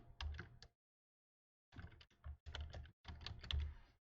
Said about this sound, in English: Let's type my name in here.